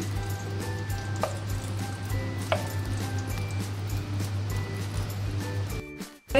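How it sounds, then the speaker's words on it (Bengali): Fennel seeds and dried red chillies sizzle and crackle in a spoon of hot ghee in a kadai, a steady frying hiss with small pops and a low hum beneath, ending in a brief clatter. "এটা ফোড়ন দিলাম, মৌরি ফোড়ন আর শুকনো লঙ্কা"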